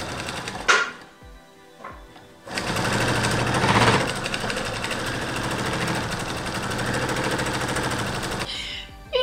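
A sewing machine stitches a straight seam on fabric scraps about 1 cm from the edge, running steadily for several seconds after brief handling noises, then stopping.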